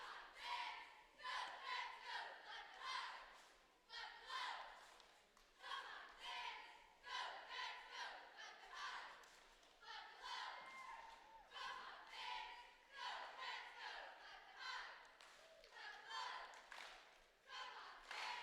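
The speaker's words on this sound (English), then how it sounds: "Crowd's getting in." Crowd at a cheerleading championship chanting and clapping in rhythm with the NFA unified cheerleading squad's cheer, repeated bursts of shouted voices rising and falling in a steady beat, loud and lively throughout.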